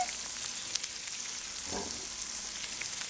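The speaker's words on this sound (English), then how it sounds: "cut the asparagus into thirds and put it right in the pan with the pancetta" Asparagus pieces frying with pancetta in a pan, a soft continuous sizzle with faint crackles and a light scrape partway through, heard alone without talk.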